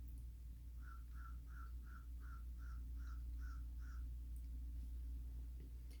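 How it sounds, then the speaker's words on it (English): A crow caws nine times in a quick, even series, moderately distant, over a low steady rumble of background noise. "That was a crow giving some translation if you heard it."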